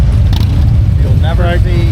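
A BMW motorcycle rides past at the Port Dover Friday the 13th motorcycle rally, its engine rumble building and shifting pitch as it goes by, loud over steady crowd and traffic noise with voices around.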